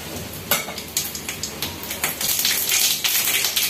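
Potato and drumstick bhaji fries loudly in a pan with mustard seeds and cumin, a close, crackling sizzle broken by repeated metal clinks and scrapes of stirring.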